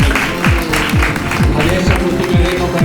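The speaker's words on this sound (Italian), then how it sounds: "Un applauso ancora a lei" Audience applause at a Miss Fashion beauty pageant held at Villa Italia in Padova, steady clapping from a crowd running under a loud announcer voice with thumping background music.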